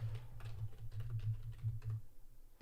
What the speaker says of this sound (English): If you do hear me typing, that's just me making alerts in the private community that I offer.